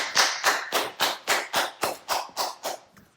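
A steady run of about eleven loud hand claps at an even, brisk rhythm, close and alone, the last one fading quickly.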